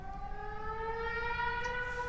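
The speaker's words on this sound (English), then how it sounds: "Siren." Siren patch on a Roland INTEGRA-7 synthesizer gives a rising wail with strong harmonics, steady and loud for about two seconds, with no talking.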